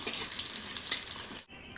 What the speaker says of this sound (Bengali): এবারটা গাজরটা ভেজে নেব